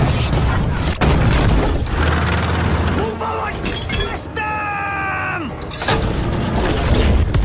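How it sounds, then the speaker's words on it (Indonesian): Gunfire and explosions from a war film, with booming blasts and cracking shots, loud and dense throughout, and a rising, tonal, siren-like sweep in the middle, all under an ongoing voice. "Dari belakang, pasukan Hamid terus menghujani mereka dengan tembakan."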